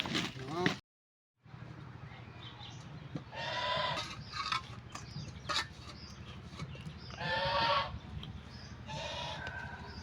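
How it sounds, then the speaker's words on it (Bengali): Chickens and chicks at a village fish pond give short bursts of clucking and peeping calls over steady outdoor background noise, with a voice faintly present. "এই যে মুরগি বাচ্চারা দাও খায়"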